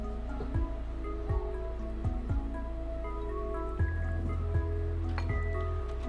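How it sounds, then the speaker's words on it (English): Milk is poured onto a cracked egg for crepe batter, a soft liquid trickle with several small drips and splashes over a low, steady background hum. "Add some milk into it."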